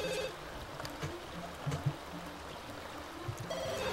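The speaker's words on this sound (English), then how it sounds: "Answer the phone." A telephone rings in The Sims 2, with a short electronic ring at the start and another near the end over quiet game ambience.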